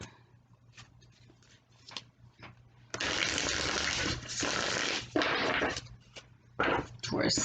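Tarot cards being shuffled in bursts of crisp, riffling noise, loud and close, with quieter handling sounds and brief pauses between.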